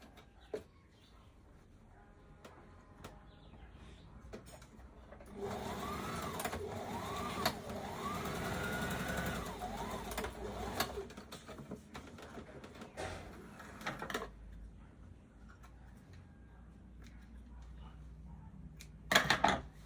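A sewing machine stitches a skirt, running in one continuous burst of several seconds at moderate volume after quieter room sounds, then stopping.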